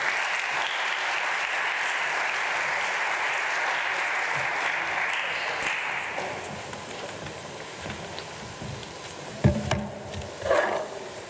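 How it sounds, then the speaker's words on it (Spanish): Sustained audience applause welcomes a speaker onto an event stage, loud and dense for several seconds before thinning into scattered claps and a few nearby thumps. "Lo recibimos con un fuerte aplauso."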